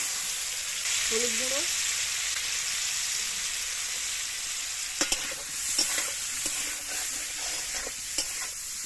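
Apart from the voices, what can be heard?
parboiled potatoes frying in white oil and mustard oil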